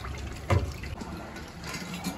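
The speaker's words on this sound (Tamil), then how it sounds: "வேக வச்ச பருப்பு தண்ணி எடுத்து ஊற்றிட்டேன்." Cooked lentil water is poured into tamarind for paruppu rasam, making a short, soft splash and liquid gurgle with a small burst near the start and quieter trickling after.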